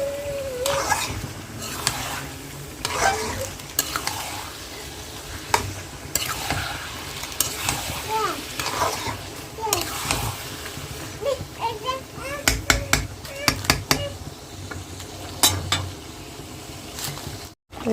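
Meat frying with ginger and garlic in a pan, stirred steadily so that repeated scraping and clattering strokes rise over a continuous close sizzle for the whole stretch.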